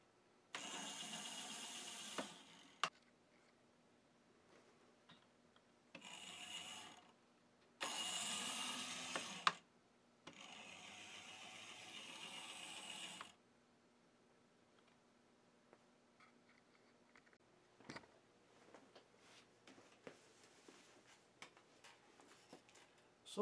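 A 70-year-old Varney 0-4-0 model locomotive motor running after cleaning and lubrication makes a buzzing whine in several separate bursts, fairly loud and close with quiet ticking gaps between them.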